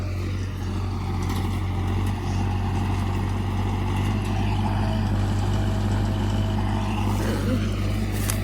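A tractor engine runs steadily nearby, a deep continuous throbbing drone with no breaks.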